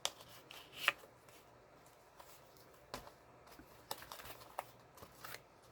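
Small paper cards and little envelopes are handled close by in a quiet room, with soft rustles and sharp paper flicks and taps coming in scattered bursts.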